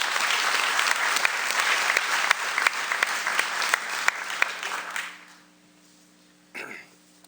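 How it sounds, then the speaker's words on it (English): An audience at a St. Vincent High School radio station Dream Team event applauds coach Keith Valansky, steady loud clapping for about five seconds that then dies away, with a brief burst near the end. "Let's give Coach Valansky a big round of applause"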